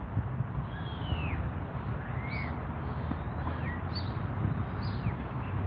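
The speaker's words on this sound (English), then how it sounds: "The different birds chirping back here." Several different birds chirp outdoors, their thin, rising and falling calls scattered and fairly faint over a steady, rumbling background noise throughout.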